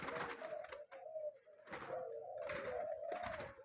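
Spotted doves and zebra doves kept as breeding birds coo in repeated rhythmic phrases, close and clear, with several calls overlapping across a few seconds and no talking.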